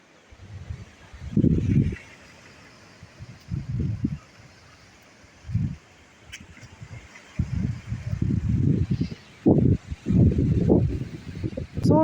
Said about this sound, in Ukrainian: Я такого вітру не пам'ятаю ніколи взагалі.